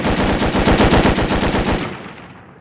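Rapid automatic gunfire with explosive ammunition in the survival game Rust, a loud continuous burst of closely spaced shots lasting nearly two seconds, then a fading tail into quiet.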